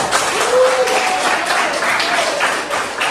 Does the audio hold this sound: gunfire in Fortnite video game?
no